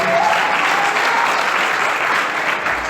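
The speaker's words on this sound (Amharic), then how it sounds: "ለእግዚአብሔር ክብር አጨብጭቡ።" A church congregation claps together at a sermon, a dense, sustained burst of applause that holds evenly at fairly close range for a few seconds.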